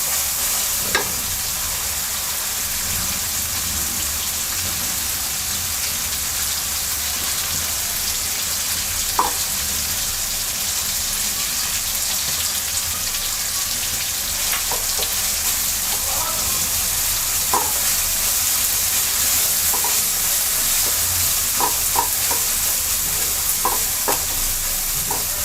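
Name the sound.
sesame paste frying and being stirred in a pan with shrimp masala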